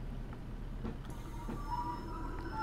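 A Class 150/1 train in a train simulator game rolls slowly to a halt at a signal, a low, steady rumble with faint clunks and a thin squeal as the brakes take hold, quiet and alone.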